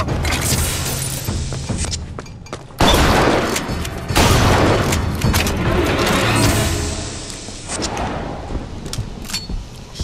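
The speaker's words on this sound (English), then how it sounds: "Alright, time for some shotgun action" Loud shotgun blasts in BioShock Infinite combat, heavy booming shots separated by brief pauses, layered over dense game effects, clattering and background action.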